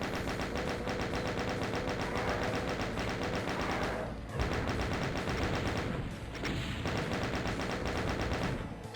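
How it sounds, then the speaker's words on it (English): Chain gun in Doom (Eviternity II, map Annihilate Me) firing a long, steady stream of rapid shots at revenants, loud and continuous for about nine seconds, with a couple of brief dips in the barrage. "Slowly chain gunning several revenants to death with a chain gun."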